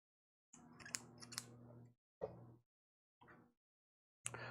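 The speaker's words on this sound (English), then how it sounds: "And I'll just use these scissors" Scissors snip and tear through the packaging of a boxed record set, in a series of close, crisp cutting bursts separated by short pauses.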